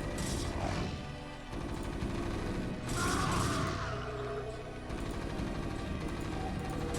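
Units in StarCraft: Brood War fire at SCVs, and the gunfire comes as dense, overlapping bursts of rattling shots with crunching impacts. The volley stays steady and busy under the game's constant background noise.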